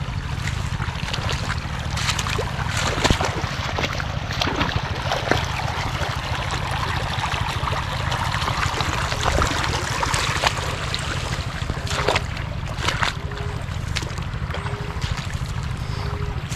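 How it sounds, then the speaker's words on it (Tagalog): An engine-driven water pump irrigating a farm through two hoses, heard as a constant low motor drone under a continuous rush and trickle of flowing water, steady and close throughout. "Isang makina, dalawa yung nagpapatubig."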